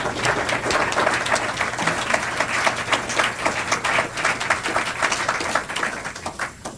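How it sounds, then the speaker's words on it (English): Debate audience applauding at the close of a panel on China's economy, steady dense clapping filling the room for the full stretch, no voices over it. "they're clapping for themselves"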